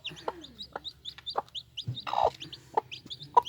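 Hens with their newly hatched chicks cluck and peck at scattered feed, giving repeated short clucks and high chick peeps close by, with scratchy pecking in between.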